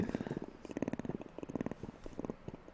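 Someone imitates a cat's purr with their voice, a close, rhythmic rumbling pulse that continues steadily throughout.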